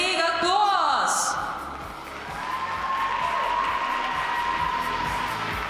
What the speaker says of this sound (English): let's welcome him here with a big applause